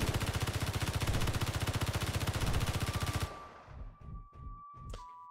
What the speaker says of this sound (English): Now the rapid fire, this is going to be spectacular.